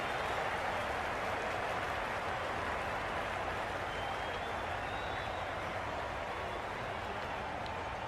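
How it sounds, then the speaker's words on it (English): A stadium crowd roars in the Ashes Cricket 22 video game during an Australia versus England match, a dense continuous wash of cheering and applause at steady loudness with no break, far off and enveloping. "Will you listen to the crowd?"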